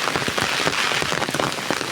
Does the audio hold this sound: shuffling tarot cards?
no